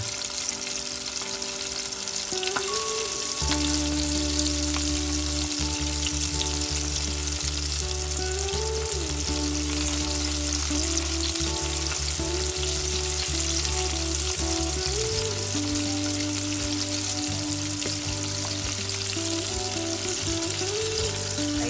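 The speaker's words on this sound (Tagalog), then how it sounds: "Yan, deep fry lang natin siya." Chicken deep-frying in hot oil crackles and hisses loudly and continuously up close, with background music playing over the bubbling.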